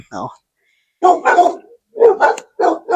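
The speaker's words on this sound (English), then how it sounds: "If you guys hear barking, the neighbor left their dogs out" Neighbor's dogs barking outdoors, a short bark near the start and then faint barking mixed in with a person talking nearby.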